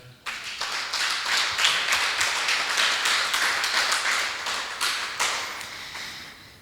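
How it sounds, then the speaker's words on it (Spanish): A church congregation applauds to praise the Lord during a Spanish-language service, with clapping that starts abruptly and continues steadily and fairly loud, pulsing slightly in intensity before dropping off at the end. "Un aplauso al Señor"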